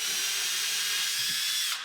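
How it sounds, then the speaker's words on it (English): Power drill boring a pilot hole into a drywall ceiling, a steady high whirring grind held for nearly two seconds before it winds down at the end. "first thing we're going to do is just drill a pilot hole."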